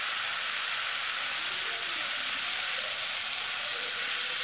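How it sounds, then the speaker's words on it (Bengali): Salt, turmeric and chili powder dropped into hot oil for a Bengali koi fish curry, giving a loud, steady, unbroken hissing sizzle that holds for several seconds without a break. "তো তেলের ওপরে এই নুন হলুদ লঙ্কার গুঁড়োটা দিয়ে দিলাম।"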